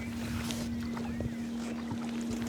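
A rowing boat on an Irish lake moves by oar alone, with soft splashes and creaks from the oars, faint water lapping and steady wind noise under a constant low hum.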